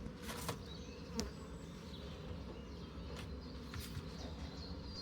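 Honeybees buzzing at a beehive during a pre-flow inspection of the third hive, a steady low hum from many bees with a few closer individual buzzes passing by, fairly quiet and with no talk.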